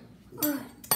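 A metal spoon picked up among dishes, two short bright clinks close by in a quiet kitchen.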